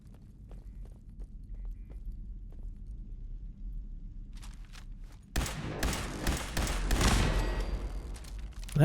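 Burst of heavy turret gunfire in the post-apocalyptic game A Ghoul's Tale, breaking out suddenly after a quiet stretch of low rumble and scattered footsteps, loud and dense through to the end.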